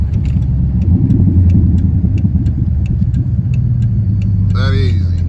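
A Dodge 5.7 Hemi car rumbles loudly at close range on a downshift, its deep exhaust note broken by a few sharp pops and crackles, with someone talking over it.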